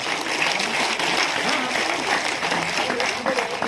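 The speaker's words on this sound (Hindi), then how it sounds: "तालियां उठे तो जरा खुलकर उठे।" Loud, dense applause from an award ceremony audience at Bharat Mandapam, a continuous rushing wash of clapping with a voice speaking over it.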